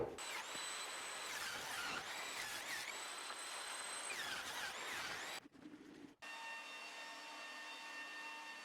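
A power saw rips cedar boards lengthwise for a DIY raised garden bed, running loud and steady with rising and falling whine for about five seconds, then a brief pause before a lower, steadier motor hum resumes.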